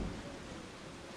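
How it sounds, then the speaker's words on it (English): Steady rain with a low rumble of thunder in the Resident Evil 4 video game, a faint, continuous hiss over a deep background roll, with no voices. "Rain. That's just great."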